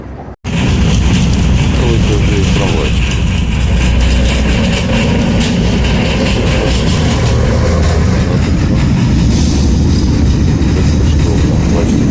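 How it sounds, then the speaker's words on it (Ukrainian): Loud, continuous rumble of a tram ride in Kharkiv, heard from inside, steady rolling noise with faint rattling and clatter throughout, after a brief quiet start. "Під'їхав дві зупиночки на трамвайчику."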